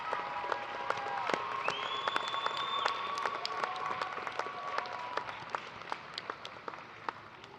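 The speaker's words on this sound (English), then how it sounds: "give a round of applause to the people who supported you throughout law school" Sustained audience applause at a 2022 law school commencement ceremony for a college of law: dense, steady clapping from a large crowd filling the hall throughout, with a few sharper individual claps standing out near the end.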